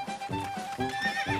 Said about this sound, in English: Looks like runaway horses.